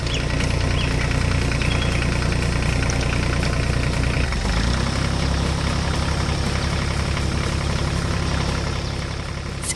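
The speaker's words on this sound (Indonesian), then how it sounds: "Mesin ini adalah jantung dari pertanian, dirancang dengan teknologi canggih untuk memanen hasil bumi dengan efisien." A harvesting machine engine idles steadily and loudly throughout, with a constant low mechanical drone and a slight shift in tone near the middle.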